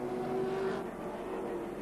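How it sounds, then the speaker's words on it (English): A Toyota Celica racing car engine in the 1981 Hang Ten 400 touring car race, droning hard and steady at high revs, close and continuous with no talk. "the motors run very hard and constantly, as we see the Alan Brown car"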